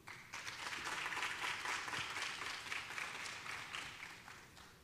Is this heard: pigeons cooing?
no